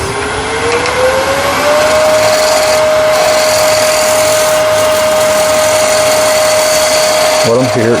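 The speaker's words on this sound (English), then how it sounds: "What I'm doing here is just taking light little scraping cuts." A wood lathe spins a glue block while light scraping cuts true its face. The motor whine rises to a steady pitch and holds under a continuous rough scraping hiss.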